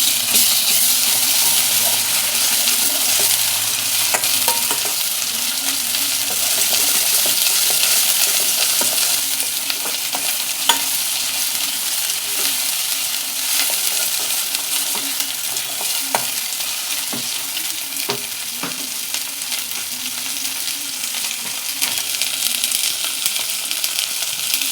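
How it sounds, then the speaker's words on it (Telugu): Onion with ginger garlic paste frying in a pan for an egg and drumstick curry, a loud, dense, continuous sizzle with intermittent stirring scrapes throughout, close up and without speech. "అది పచ్చివాసన పోయేంత వరకు ఫ్రై చేసుకుందాం."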